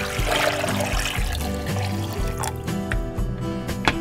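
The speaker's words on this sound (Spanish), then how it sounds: "Le voy a agregar un poco de agua." Water is poured into a blender jar holding chopped carrots, producing a gurgling, trickling splash with small sloshes. The pour is close and moderately quiet and runs in uneven bursts.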